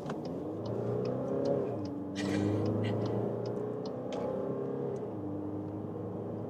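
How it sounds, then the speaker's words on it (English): A 2024 VW Tiguan TDI with all-wheel drive accelerates out from 40 km/h, its engine rising in a moderate drone heard from inside the cabin, with gear-change dips and road rumble underneath. "From 40 kilometers an hour, we'll accelerate it out."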